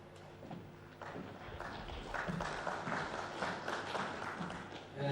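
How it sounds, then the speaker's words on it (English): An audience applauds the Municipal Manager at a district matric achievers awards ceremony, a steady wash of clapping from a crowd lasting several seconds, with some voices mixed in. "A round of applause for Municipal Manager"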